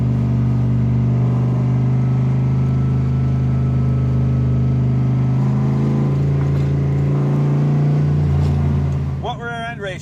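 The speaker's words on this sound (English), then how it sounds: "You know, it's loud, but not obnoxiously loud." A 1999 Shelby Brock Daytona Coupe's exhaust drones steadily and loud while driving, a deep constant rumble with little change in pitch, running under conversation from the occupants for most of the stretch before easing near the end.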